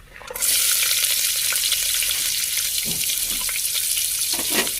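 Onions sizzle and fry steadily in a hot pan for palak chicken biryani, a continuous close crackling hiss with a few soft stirring scrapes and no talking.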